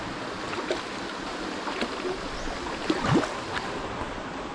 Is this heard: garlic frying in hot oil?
no